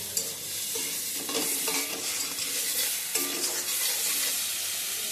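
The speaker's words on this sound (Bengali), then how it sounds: "কষাতে থাকুন এভাবে। তেল ছেড়ে এসছে।" Duck egg curry masala sautés in a little oil, a steady close sizzle broken by repeated scraping strokes of a spatula against the pan.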